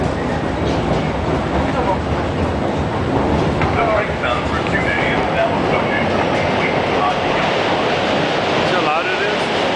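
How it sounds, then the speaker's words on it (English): A train arrives at a station in Korea, a steady loud rumble of rail and wheel noise with faint squeals and clatter filling the whole stretch, heard up close. "here comes the train"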